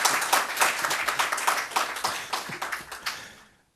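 Audience clapping at a presidential swearing-in ceremony, a rhythmic patter of individual claps that swells briefly and then dies away to silence.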